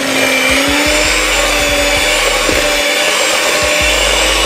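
An electric mixer creams ingredients for a Jamaican black fruit cake, a loud steady whirring motor with a constant hum, broken by irregular knocks and scrapes as the beaters hit the bowl.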